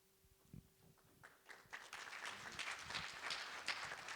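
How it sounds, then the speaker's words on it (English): Audience applause at a panel workshop, starting sparse with a few claps and swelling into steady, moderately distant clapping from a crowd that continues to the end. "we appreciate the applause"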